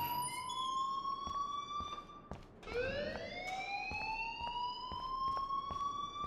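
Electronic alarm blaring in the video game Life Is Strange, a loud steady tone that dips briefly and restarts with a rising wail, sounding continuously with no talk.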